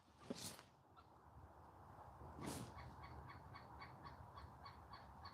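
Outdoors, a bird gives two loud, sharp calls a couple of seconds apart, followed by a faint, rapid series of repeated chirps over quiet background noise.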